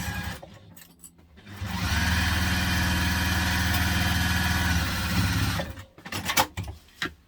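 A sewing machine stitches down the sides of a fabric backpack, a fast, steady mechanical whir running for about four seconds, with softer handling noises before and after.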